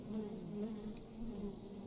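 A swarm of bees buzzes around a smashed beehive in a video game, making a steady, droning hum that is continuous and moderately quiet, with no voices.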